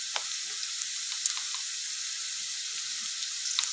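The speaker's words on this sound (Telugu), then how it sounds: "ఇప్పుడు ఈ రెండు మంచిగా మనం ఆయిల్లో ఫ్రై చేసుకోవాలి." Ginger paste and turmeric fry in hot oil for an egg and spring onion curry, giving a steady, fairly quiet sizzle throughout with a few faint clicks and stirs and no talking.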